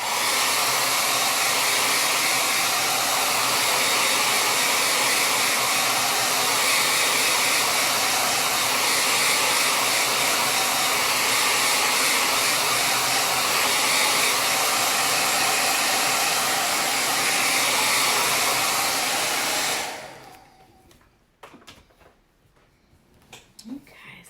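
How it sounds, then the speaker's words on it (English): A hair dryer blowing wet paint dry on a painting, a loud steady whooshing roar held for about twenty seconds before it switches off, leaving faint rustles. "we're just gonna blow it dry so I don't put my hand in it."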